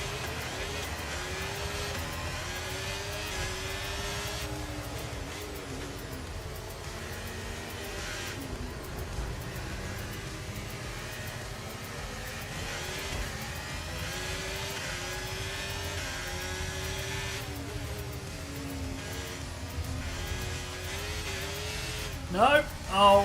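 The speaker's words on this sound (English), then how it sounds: "Lights are out, the race is on." Several F1 race cars in F1 23 roar off the start together, engine pitches climbing and sweeping through gear changes, loud and continuous, with a voice talking over the racket throughout and a sharp impact-like burst near the end.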